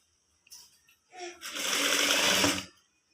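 A sewing machine runs in short bursts and then one sustained whirring stretch as it stitches a sleeve attachment, with a double stitch, on a garment being made with piping and side attaching.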